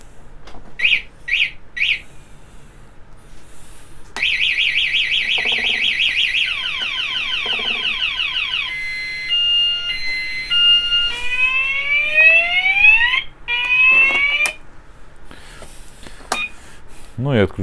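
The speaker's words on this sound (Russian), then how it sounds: "После того, как прозвучал такой сигнал, вынимаем ключ, и сигнализация включена." Car alarm system signalling: short chirps, then a long run of rapid warbling beeps and sweeping siren tones, close and clear, with someone speaking briefly around it.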